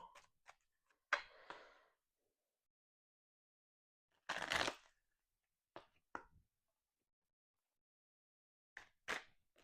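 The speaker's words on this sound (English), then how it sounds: "I'm gonna get a few shuffles and then I'm going to cut" Cards are shuffled in several brief riffling bursts separated by silence, with a few soft taps and clicks in between.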